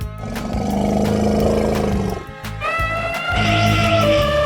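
An elephant's trumpeting call from a 3D animal video game, a loud, sustained, roaring cartoon-like cry that rises into a brighter, higher trumpet partway through, with no talking.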